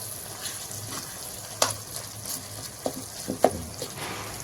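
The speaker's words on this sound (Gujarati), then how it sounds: "આપણા ટામેટાને આપણો બધો મસાલો સરસ એવો તેલમાં શેકાઈ ચૂક્યો છે" Tomatoes and spice masala fry in oil for vaghareli khichdi, a close, continuous sizzle broken by a few sharp spatters and scraping stirs, with no voices.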